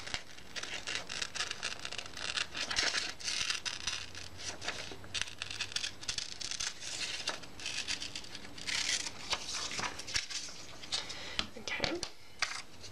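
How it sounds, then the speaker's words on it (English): Scissors cutting a paper mask along a horizon line for an embossed Christmas card, with soft, close snips and paper rustling in short bursts. "I'm going to cut along the horizon line"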